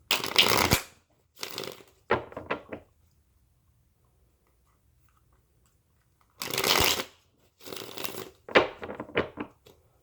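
A deck of cards riffle-shuffled in two bursts, crisp fluttering rattles separated by a long quiet pause.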